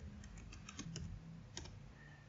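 Keystrokes on a computer keyboard as a command is typed at a command prompt, a quick run of close, light clicks in an irregular rhythm over a faint steady hum.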